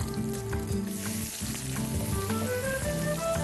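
Onions dropped into hot cooking oil for Bicol Express, frying with a steady, close crackling sizzle that holds for a few seconds, with some clatter over it.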